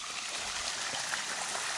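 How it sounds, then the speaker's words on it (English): A stone waterfall flows steadily, a dense, even wash of falling water that fills the whole short stretch at moderate distance with no voices over it. "It's really, really nice waterfall."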